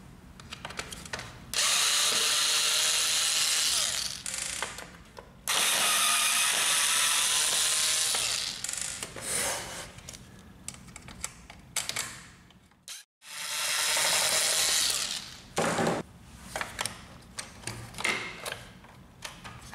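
A power screwdriver whirs in several long bursts, removing screws from the assembly of a Samsung ML3310 laser printer, with short clicks and pauses between each screw and a brief silence midway.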